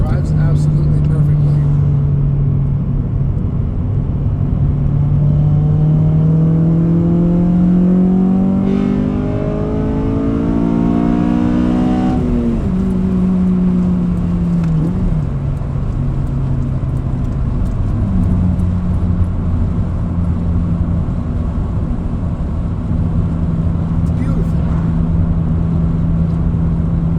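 A 2007 Honda Civic Si being driven, its engine droning steadily, then climbing in pitch through a long rev before dropping back to a lower cruising hum, loud and close throughout.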